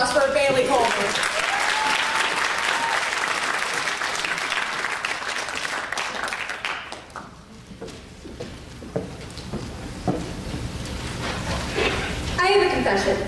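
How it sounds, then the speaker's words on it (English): Speech-night crowd at Modesto Junior College applauding a student speaker, loud sustained clapping that thins and fades midway, with scattered claps and some talk near the end. "let's give a big round of applause for Bailey Coleman"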